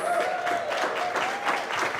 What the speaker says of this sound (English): Give Hiroshi a big round of applause.